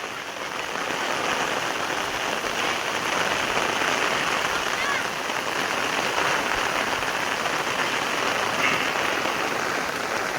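Heavy rain pouring down in a village, a steady dense hiss of drops on surfaces that holds unbroken and even for the whole stretch.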